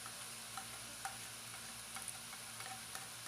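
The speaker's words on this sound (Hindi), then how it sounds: "इसको भी तकरीबन हम 3 से 4 मिनट तक प्याज के साथ फ्राई कर लेंगे" Quiet, steady sizzle of chopped onion, ginger and garlic frying in a pan, with occasional soft ticks and pops, low in level and without any voices.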